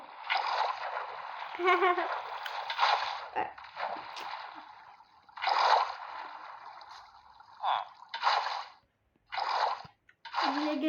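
Water poured onto grass in the video game Minecraft, giving repeated bursts of splashing and sloshing in uneven clusters, fairly close and moderately loud, with short gaps between.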